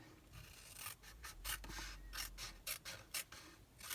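Blade or scissors cutting across card while making a nail polish box, a series of short dry rasping strokes with brief pauses between, close and quiet with no voices.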